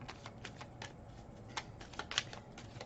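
Tarot cards being shuffled in hand, giving a quiet, uneven run of soft riffling flicks and slaps with a couple of sharper snaps near the end, close by and alone with no talking.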